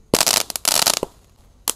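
A fan-shaped 49-shot roman candle fires at night during Ramadan, giving sharp crackling bursts in quick irregular clusters with short gaps between them, close and loud.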